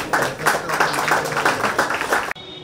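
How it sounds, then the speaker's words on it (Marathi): Loud applause from an audience at an astrology convention panel discussion, steady rhythmic clapping from many hands that carries on for a couple of seconds before cutting off abruptly. "जोरात टाळ्या झाल्या पाहिजे"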